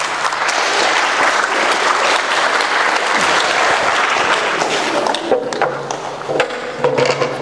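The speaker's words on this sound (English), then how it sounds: "Can we have a round of applause for John, please?" A room full of people applauds at a college presentation, loud dense clapping sustained for several seconds before thinning into scattered claps near the end.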